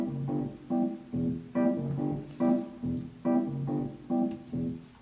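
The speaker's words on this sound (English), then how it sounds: "I also have this electric keyboard called a Wurlitzer, and it sounds like this." A Wurlitzer electric keyboard plays a steady repeating pattern of soft, warm chords, about six even pulses, moderately quiet and heard alone.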